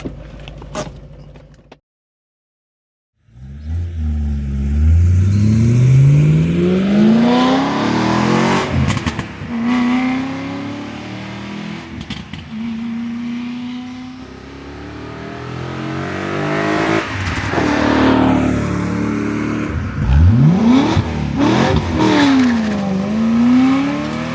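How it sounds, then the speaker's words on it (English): A BMW E92 M3 engine, warmed up to temperature, revs repeatedly, pitch sweeping up and dropping back in several loud bursts, after a brief silence at the start. "Great sounding, quiet engine."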